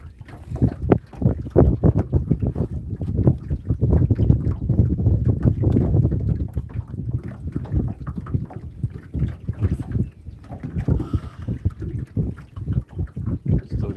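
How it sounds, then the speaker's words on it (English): A fishing boat runs straight into the wind on Carr Lake, its steady engine drone mixed with heavy buffeting wind noise against the microphone, fairly close and continuous. "Pretty much going like straight into the wind right now."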